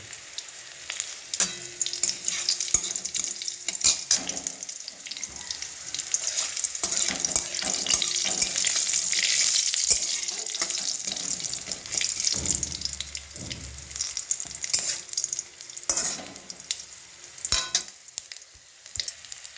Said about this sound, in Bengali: দেখুন কালো জিরে লঙ্কাটি খুব ভালোভাবে ভাজা হয়ে গেছে